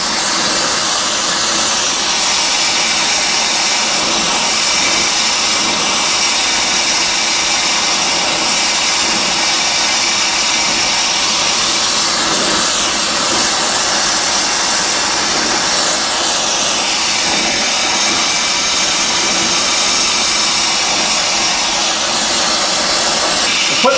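Steady, loud roar of a torch flame heating an early Ford steering arm for a dropped-axle hot rod, a broad hiss running unbroken for the whole stretch with no talk.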